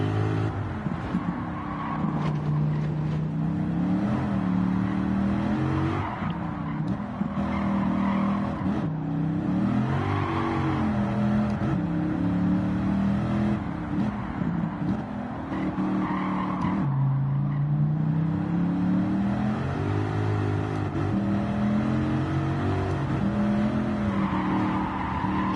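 A supercharged Dodge Viper in a racing video game drives continuously, its engine note rising and falling through repeated revs and gear changes over steady road and tire noise, with no pauses.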